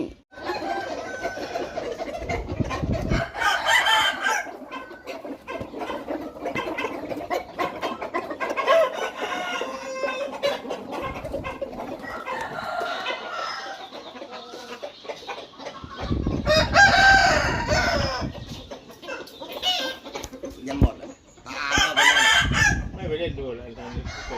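Farmyard chickens cluck steadily and a rooster crows loudly several times, close by, with scattered faint voices and background noise between the calls.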